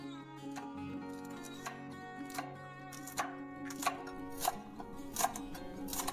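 A knife slicing green chilies diagonally on a cutting board, a steady run of crisp chopping taps, close and clear, growing slightly louder toward the end.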